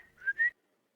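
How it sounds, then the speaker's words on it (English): A person's short two-note whistle calling a dog, clear and close, rising slightly in pitch and heard alone before silence. ""Gladly," said the boy, who let out a whistle which Pepper instantly obeyed."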